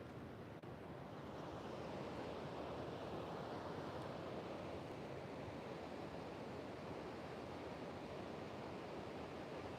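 Ocean waves and a breeze along the Pacific Beach oceanfront make a steady, faint broadband wash with no clear breaks, and no one speaks.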